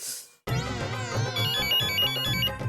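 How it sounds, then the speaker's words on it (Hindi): A mobile phone ringtone starts after a brief pause and plays on as a bright, melodic electronic tune, fairly close and clear. "एक तो ये पर्स में फोन रखा होगा, बेल सुनाई नहीं दी होगी।"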